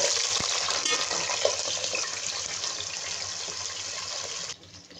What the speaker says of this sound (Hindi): ये देखिए अरबी हमारी फ्राई हो रही है